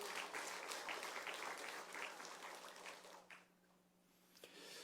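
Church congregation applauds the choir and conductor after a hymn at a Sunday service marking the church's 45th anniversary; dense clapping for about three seconds, then thins out and fades to near quiet with a few scattered claps.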